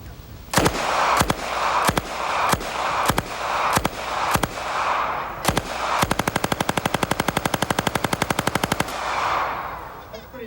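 A Thompson submachine gun fires a full 50-round drum: loud single shots spaced about half a second apart, then a rapid continuous burst of about three seconds, with echoing room tail and no talk.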